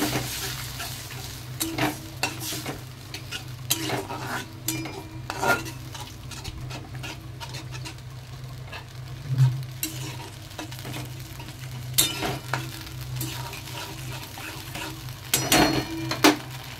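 Paneer Manchurian sauce with chilli powder and water simmers in a kadai while a spoon stirs it. Soft bubbling and faint sizzle sit under repeated metallic scrapes and clinks against the wok, with no talking.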